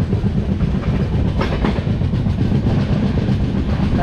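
Wheels of a Kannur to Yesvantpur express sleeper train clatter steadily over the rails as it nears Thalassery, a loud, continuous rumble with rhythmic clicks and no voices.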